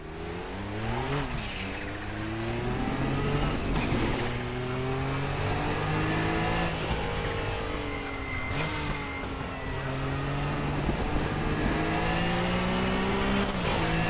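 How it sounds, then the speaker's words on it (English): Race car engine in the RaceRoom sim racing game, an old-school LMP2 prototype lapping the Nurburgring, revs up and down through repeated gear shifts, loud and continuous, with faint speech underneath. "Oh, listen to that car. This is like old school LMP2."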